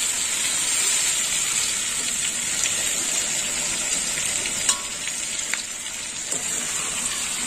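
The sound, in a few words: fried ridge gourd, potato and pointed gourd added to sizzling spice paste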